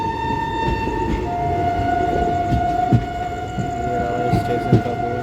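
A New Delhi–Saharsa special passenger train pulls out of a station before dawn. Long steady horn-like tones ride over a low rolling rumble, with a few soft knocks and thumps.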